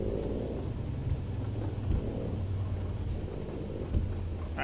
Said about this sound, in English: one of the main things about this game is you want to hear that engine